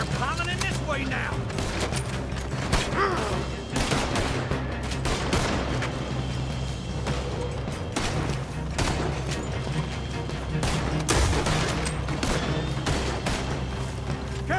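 Rapid, loud gunfire from a first-person barn shootout in Red Dead Redemption 2: dense bursts of shots and heavy booms keep going for the whole stretch, with a voice speaking briefly amid the shooting.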